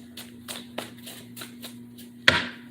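Tarot cards being shuffled in quick, rhythmic riffles, several soft bursts in succession ending with a sharper slap, close and without voices.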